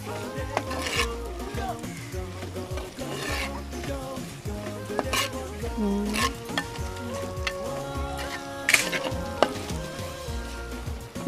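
Onions sautéing with salt in a pan for a pork liver fry give a continuous frying sizzle with occasional utensil clinks, largely covered by prominent background music.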